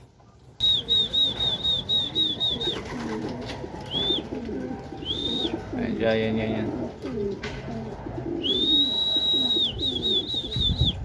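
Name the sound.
racing pigeon arriving and cooing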